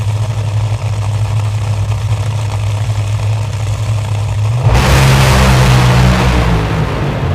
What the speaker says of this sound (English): Pat Dakin's car left the starting line fairly solid